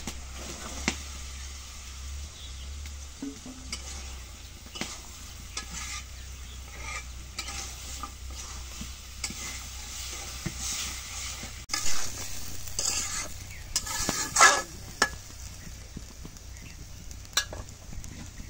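Vegetables fry in a pan, a soft continuous sizzle broken by intermittent scraping and stirring clatter, fairly quiet and close with no talking.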